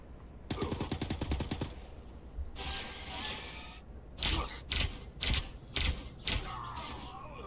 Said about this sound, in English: fire ice shots that damage enemies or heal allies